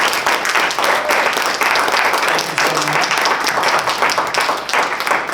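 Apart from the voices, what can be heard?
audience applause after keynote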